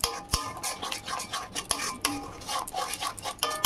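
Spiced masala of cumin, turmeric, chilli and Kashmiri chilli powders with water being stirred and fried in a pan, giving a close, steady scraping and rubbing with sharp clinks of the spoon against the metal, no voices.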